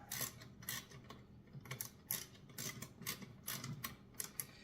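Bolts tightened by hand on the frame of a Tib Machine, a tibialis anterior exercise machine, give quiet repeated metallic clicks and ratcheting ticks in short bursts, close by and fairly faint, with no talk.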